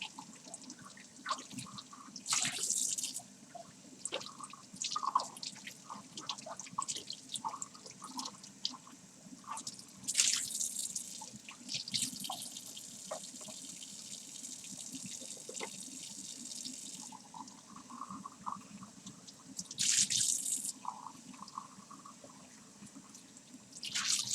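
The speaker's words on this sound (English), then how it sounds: "Okay, so we wash away the seeds" Tap water runs over a pepper as its seeds are rinsed away at a kitchen sink, a continuous close splashing flow with occasional louder gushes and drips.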